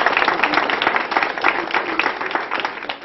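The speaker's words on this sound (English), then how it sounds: "Let's give him a round of applause in this afternoon." An audience gives a round of applause, a close, lively patter of many hands clapping with uneven bursts, fairly loud throughout.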